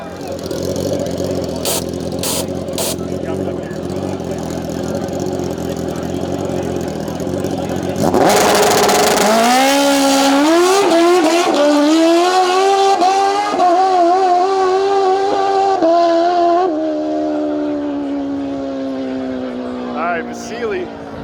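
Drag race at a Canadian pay-your-own-purse event with a turbocharged Fox Body Mustang in the right lane: engines rev hard, then a loud launch roars and climbs through rising gear pulls before fading, under announcer commentary.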